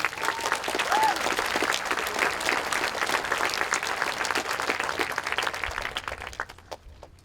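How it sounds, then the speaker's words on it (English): A crowd claps steadily at a middle school eighth grade graduation ceremony, a thick sustained wash of applause that tapers off near the end, with faint voices mixed in. "Please join me in a round of applause to thank them."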